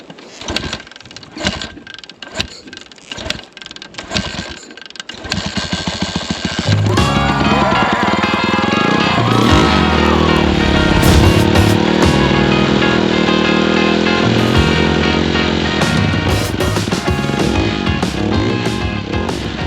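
A flooded Honda fuel-injected dirt bike gets a few sputtering cranks, then catches around a third of the way in and settles into a loud, steady, close engine run that carries to the end.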